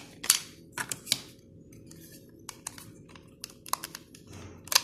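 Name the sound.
opening the plastic lids of a Raspberry Pi case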